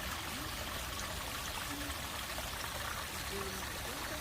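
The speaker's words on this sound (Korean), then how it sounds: "오늘은 졸졸졸 물 흐르는 소리를 들으니 시원하네요" A small stream trickles and gurgles beside the Namsan Dullegil walking trail in Seoul, a steady, continuous wash of flowing water, fairly close and unbroken throughout.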